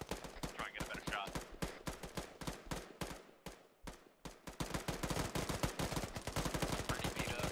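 Sustained automatic gunfire in a Starship Troopers game, a steady rapid stream of sharp shots that dips briefly midway and then resumes at full intensity, with faint voices beneath.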